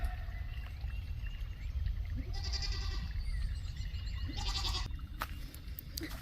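Baby goats bleat a few times against a steady outdoor farmyard background, calls moderately loud and irregular.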